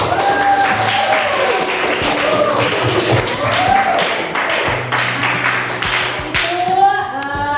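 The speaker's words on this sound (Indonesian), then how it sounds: "Kasih tepuk tangan." A class claps for a group after its presentation, loud, steady applause from many hands filling the room, with faint voices and chatter mixed in underneath.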